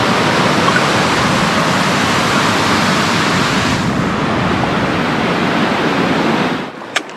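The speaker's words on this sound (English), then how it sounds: "The water fountain's pretty impressive too." A waterfall on a mountain walk in the Lake District rushes loudly and continuously as a dense, steady roar, close by, before cutting off abruptly near the end.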